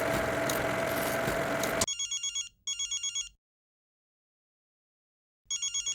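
A telephone rings in short electronic bursts, two quick rings, a pause, then another, loud and alone after a noisy stretch of background sound from a crime drama scene.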